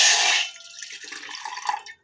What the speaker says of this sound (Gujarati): એમાં હવે આપણે એક કપ પાણી લઈશું